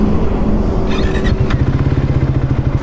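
Triumph Tracker 400 with a 349cc liquid-cooled engine being ridden, a close, loud exhaust drone with a quickening pulsing beat as it pulls away, along with brief higher clatter partway through.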